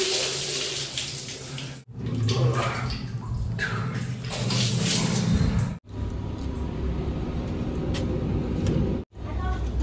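Water splashed and poured over a person in a small bathroom shower, a continuous rushing and splattering wash broken by a few brief pauses, with faint voices underneath.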